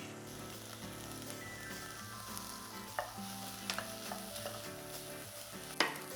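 Bell pepper, red onion, minced garlic and jalapeño sautéing in a pan, giving a steady close sizzle with stirring scrapes and a few sharp clicks of a utensil against the pan, with no talking.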